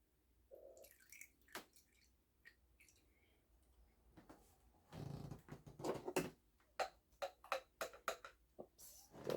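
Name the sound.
juice dripping as it is poured out of a cherry can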